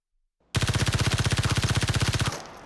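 A Vector SMG fires on full auto in Super People, a loud rapid stream of about thirty evenly spaced shots that starts abruptly after a short silence and stops cleanly before a brief tail.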